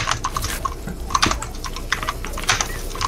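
Rapid clattering keystrokes on a computer keyboard during a Fortnite Zone Wars game, irregular bursts of clicks close by, with no voices.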